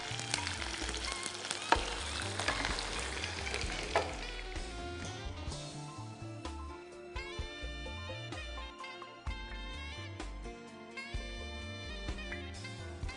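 Peanuts and chillies frying in hot oil for a South Indian tempering, with a steady close sizzle and crackle under occasional stirring, continuous and fairly loud throughout.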